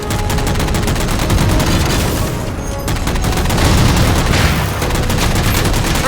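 Sustained loud gunfire from Halo combat as jammers are shot down: a dense, continuous barrage of rapid shots with booming layers, barely pausing before pounding on.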